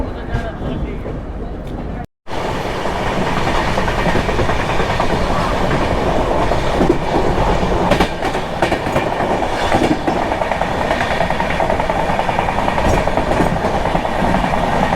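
Chennai Express pulling out of Mumbai LTT, heard from onboard as a steady loud rumble with rhythmic wheel clatter over rail joints, preceded by a brief dropout, with voices faintly underneath.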